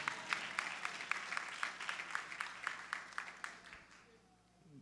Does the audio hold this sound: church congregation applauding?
yes